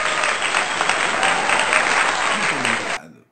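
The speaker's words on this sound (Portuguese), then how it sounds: "Então, uma salva de palmas ao STF." Loud, sustained applause from a crowd claps steadily for about three seconds, then cuts off abruptly into silence.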